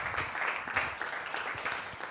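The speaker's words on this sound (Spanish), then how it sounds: "Un aplauso para él." Audience applause for the drummer during a live music session, a steady wash of many hands clapping at moderate loudness throughout, with no one speaking.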